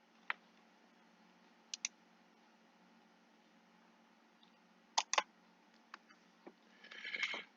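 Sharp computer mouse clicks at a desk, a few isolated single and double clicks spread out with pauses between them, fairly close and quiet, ending with a brief soft rustle.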